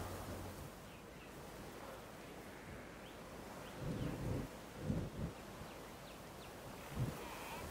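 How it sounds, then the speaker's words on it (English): A thunderstorm in the video game Jurassic World Evolution 2: a steady wash of rain and wind noise, broken by a few low rolling rumbles of thunder near the middle and end. "Another storm brewing."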